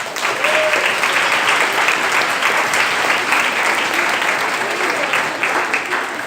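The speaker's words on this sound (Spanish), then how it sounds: "Un aplauso para María." A room full of people at a mathematics competition claps steadily and loudly, a dense continuous round of applause lasting several seconds.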